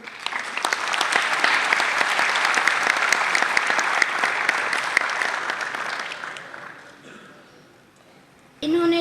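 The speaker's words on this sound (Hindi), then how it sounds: "बहुत तालियां इनके लिए।" A theatre festival audience claps steadily and fairly loudly for several seconds before the applause thins out and fades.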